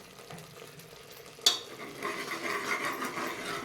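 Ginger garlic paste drops into hot oil with a sharp splash, then a soft sizzle and scraping stir build up close by, quiet at first before the frying hiss grows steady.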